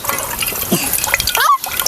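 Water poured from a copper pot into a vessel, a steady splashing trickle with brief bursts of flow, close by, while voices talk around it outdoors in a village kitchen.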